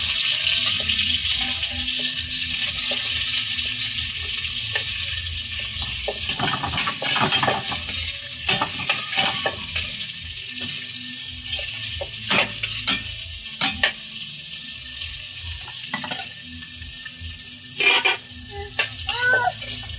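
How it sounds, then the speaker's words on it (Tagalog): Onions sautéing in a frying pan: a steady loud sizzle with intermittent stirring scrapes and clatters close up, running continuously throughout. "Nakakaigisa ang sibuyas."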